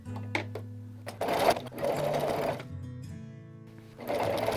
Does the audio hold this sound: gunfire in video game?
no